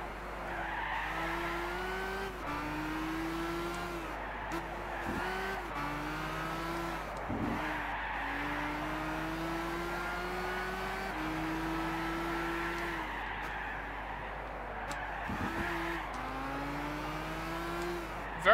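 Race cars in Gran Turismo 6 at Ascari Race Resort in a 10-lap challenge roar steadily with shifting engine tones and repeated tire skids as one overtakes another, loud and continuous with no talking.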